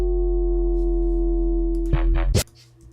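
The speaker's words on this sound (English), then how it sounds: "You can hear this is also going through a reverb." A sustained electronic bass tone plays through a reverb that leaves only its top end, a steady synthetic hum that breaks into a few distorted bursts before cutting off near the end.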